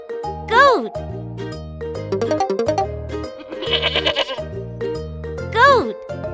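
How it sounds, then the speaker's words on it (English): A goat lets out sharp, wavering bleats, one near the start and another near the end, loud and close, over cheerful plucked children's music. "Goat."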